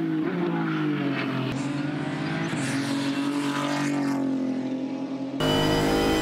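Holden V6 twin turbo Supercars race engine running at Bathurst, a loud sustained roar that shifts pitch, with an abrupt cut to a harsher blast near the end.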